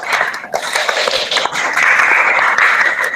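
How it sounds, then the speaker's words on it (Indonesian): Students in a classroom clap in applause at the end of a lesson, a loud, steady, fairly close patter of many hands lasting the whole moment without speech. "Tepuk tangan untuk kalian semua"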